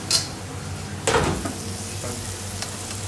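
Food fries in a pan in an Indian kitchen while a spoon stirs it, a soft continuous sizzle broken by a few sharp scrapes and clinks of the utensil against the pan.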